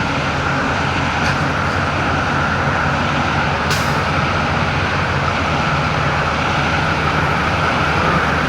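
Trucks idle and rumble steadily at a truck stop, with loud, close engine drone throughout and two short air-brake hisses cutting through. No one speaks.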